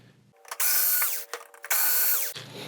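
Two bursts of a power drill backing screws out of the plastic housing of a Westinghouse WR50UX4019 TV, each roughly a second of steady whine with a trigger click between, close and loud in a quiet room.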